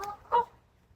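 A goose honks once outdoors in a natural setting, a short clear call following a faint earlier cry, with quiet background afterward.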